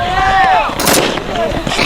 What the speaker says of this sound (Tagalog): Yan o, babaril na yan eh.